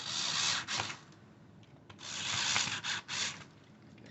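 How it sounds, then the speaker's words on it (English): A screwdriver turns housing screws with long rasping, ratcheting strokes in several runs with brief pauses between them, close and alone. "I'm just using a screwdriver just to get it started"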